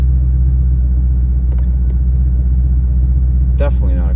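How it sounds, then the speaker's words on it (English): A V8 car engine idles roughly, not firing on all eight cylinders, a steady, loud low rumble with a faint uneven pulse and a few brief clicks near the end. "Car is running rough right now. Like it's not running on all 8 cylinders at the moment."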